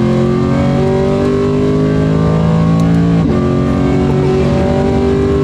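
A Lexus RC-F's engine holds a loud, steady droning rev, then briefly shifts pitch before settling back into a sustained close-up roar, with no talk over it.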